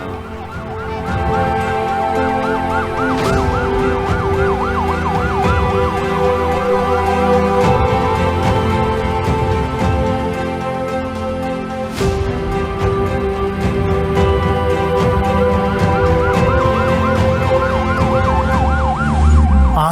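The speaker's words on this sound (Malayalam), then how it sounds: "നമ്മുടെ MP അനുവദിച്ച ആംബുലൻസാ." An ambulance siren wails loudly and continuously nearby, its rising and falling tone cycling steadily over low vehicle rumble throughout.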